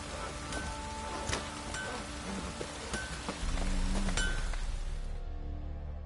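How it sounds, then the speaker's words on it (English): Heavy downpour in The Witcher 3 game world, a dense steady hiss of rain on surfaces with scattered clinking drops, swelling louder midway before fading out toward the end, no talking. "Sucker downpour this is."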